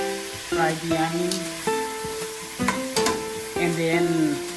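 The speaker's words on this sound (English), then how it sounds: "fry the onion," Onions sizzle and fry in a pan while being stirred, giving a steady close crackle broken by scraping strokes of a utensil at uneven intervals.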